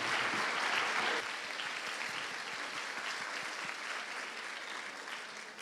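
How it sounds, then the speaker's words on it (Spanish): Audience at a lecture on the neurological bases of behavior applauds during a recognition presentation, a dense, continuous roar of many hands clapping, strongest at first and then settling to a steady, somewhat distant level. "Un aplauso para Carlos."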